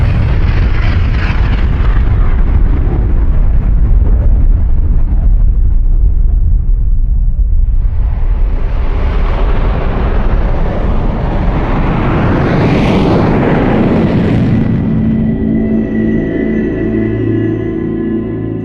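A deep, roaring rumble of an atomic bomb explosion over Hiroshima or Nagasaki in 1945, a loud sustained blast that swells into a rushing, howling surge midway before fading into a lower trailing roar.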